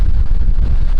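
Strong wind at a coastal landscape photography spot, a loud, deep, constant buffeting roar against the microphone with no other sounds.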